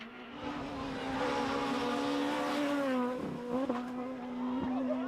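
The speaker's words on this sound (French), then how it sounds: "La Clio Super 1600, une machine conçue pour gagner." A Renault Clio Super 1600 rally car howls at sustained high revs, its engine note holding steady before dipping briefly on shifts or lifts and climbing again, loud and close throughout.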